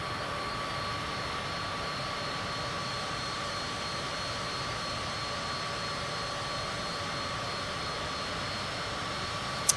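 Steady, even drone of an airplane engine cruising over Mexico in Flight Simulator 2024, a constant hum with a faint whine and no speech.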